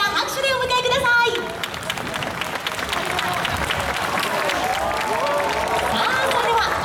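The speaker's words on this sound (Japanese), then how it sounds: "大きな拍手でお迎えください" An audience at a baseball players' talk show welcomes the players onto the stage with lively clapping and cheering, voices and crowd chatter mixed into the steady applause throughout.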